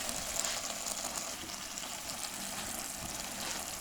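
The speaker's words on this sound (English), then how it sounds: "We're going to add our broth." Store-bought fat-free beef broth poured into a pot of French onion soup, a steady broadband liquid rush that stays fairly loud and continuous throughout, with no talking.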